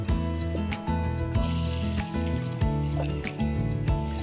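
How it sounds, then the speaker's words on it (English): Onions and garlic fry in hot vegetable oil with a continuous soft sizzle, heard alongside a fairly loud, steady backing of music throughout. "We're just going to fry these out with the garlic for about 10 minutes just to soften them down"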